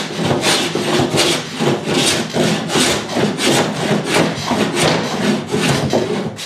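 Steady rhythmic hand sanding of a wooden boat hull, strokes repeating about twice a second, close and loud with a dry, gritty rasp and no voices.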